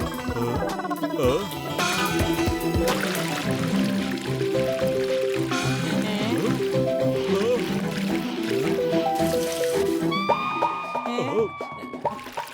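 Liquid medicine poured onto giant roses in a Motu Patlu cartoon, a gurgling fill sound mixed with animated voices talking and background music and effects.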